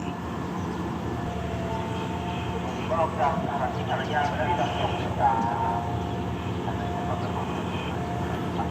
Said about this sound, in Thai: เสียงเครื่องกั้นลงแล้วนะครับ